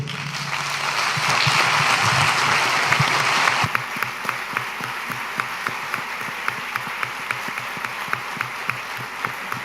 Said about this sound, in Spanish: Vamos a premiarle con un fuerte aplauso.